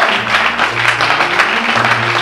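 A church congregation claps loudly and continuously, a dense wash of applause filling a worship service without pause.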